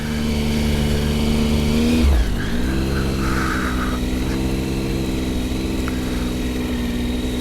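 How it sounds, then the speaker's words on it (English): A car engine on a road trip, failing and kept revved to hold the battery charge, drones loudly and steadily, dipping and rising again midway, with continuous mechanical hum. "just keep the revs up all the way"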